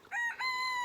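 A newly hatched gosling, one of two waterfowl chicks a week old, gives a high, piping call: a couple of short peeps followed by a sustained, clear note, close and fairly loud with no other voices.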